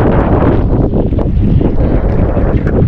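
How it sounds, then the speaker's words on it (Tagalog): Strong wind buffets the microphone out at sea on a fishing trip, a steady loud roaring rush that fills the whole clip with no talk over it. "lumalakas na rin yung hangin at tingnan nyo"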